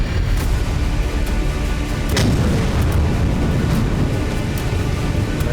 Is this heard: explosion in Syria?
yes